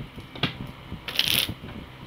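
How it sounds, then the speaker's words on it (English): Tarot cards being shuffled by hand, two quick papery riffles with soft flutter, close and moderately quiet. "One last shuffle."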